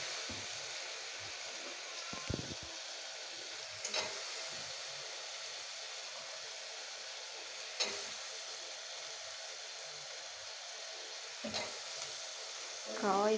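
Carrots and beans frying in oil for a vegetable biryani, a quiet, even sizzle with occasional stirring taps and scrapes spaced through the stretch.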